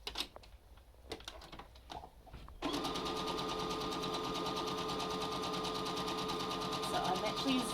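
A sewing machine runs a zigzag stitch through a cloth face mask, starting with a few short bursts and clicks, then a continuous fast whirring hum of steady stitching.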